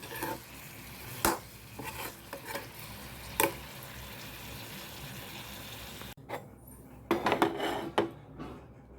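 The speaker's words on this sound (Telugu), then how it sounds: "మంచూరియా అయితే ఇలా లిక్విడ్ వేసి సాస్లో వేసి ఈ విధంగా కలుపుకోవాలి" Veg manchurian being stirred into sauce in a pan, with scraping and clinking of a utensil against the pan in scattered strokes over a low background hiss, louder near the end.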